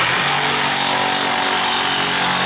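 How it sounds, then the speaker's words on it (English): A Sawzall reciprocating saw cuts in a steady, loud, harsh buzz that lasts the whole brief moment, close up and with no talking. "That's a damn near perfect Sawzall cut if I do say so myself."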